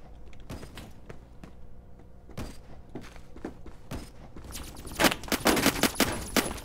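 Gunfire from an online shooter game, Roblox Phantom Forces, with scattered bursts and single shots early on building to a dense, louder volley of rapid fire toward the end, no talking.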